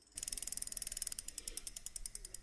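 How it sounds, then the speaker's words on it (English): A stitch marker prize wheel spins with a rapid ratcheting clatter of evenly spaced clicks that begins abruptly and runs steadily, close and clear, with no talking. "let's go and spin the stitch marker wheel again"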